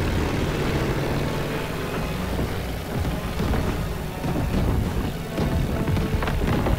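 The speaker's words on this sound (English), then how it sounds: "So we are flying a plane right now." Propeller plane flying in Call of Duty WW2 under anti-aircraft flak, a loud continuous engine drone with dense rumble and scattered bursts throughout, no talk over it.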